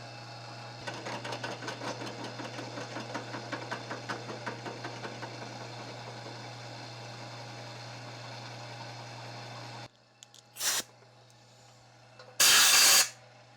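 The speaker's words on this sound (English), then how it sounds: "So that should cut straight down into the valve guide without cutting into the cylinder head" Drill bit slowly cutting into a valve guide in a Porsche 912 cylinder head, a steady grinding whir with a rhythmic pulsing that runs for several seconds, then stops, followed by short loud bursts of hiss.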